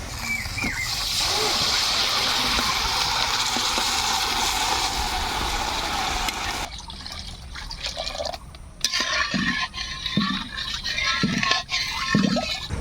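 Water is poured into a pan of egg curry masala to make gravy, a steady, hissing stream that runs for several seconds and then gives way to quieter drips, splashes and clatter.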